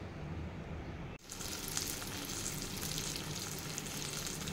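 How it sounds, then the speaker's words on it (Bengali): Eggplant slices frying in hot oil give a steady, close sizzle that cuts off briefly near the start and then resumes as a dense, continuous crackle with no voices. "তো এখন আগে প্রথমে বেগুনগুলো ভেজে নেব।"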